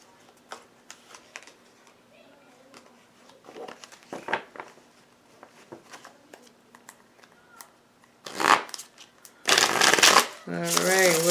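A deck of cards shuffled for a reading, soft riffling and flicking at first, then louder bursts of riffle shuffling near the end, close, with occasional talk mixed in.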